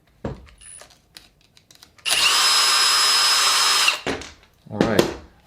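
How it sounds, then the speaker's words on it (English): A power tool whirs steadily for about two seconds, backing a screw out of an Arrma Talion RC car, loud and close, between short clicks and handling noises. "I'm going to use my power tool here, back it out."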